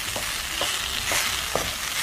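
Chicken masala filling for samosas, with finely chopped ginger, is stirred and fried in a pan, four rhythmic scraping strokes of a spoon over a constant close sizzle, no voices.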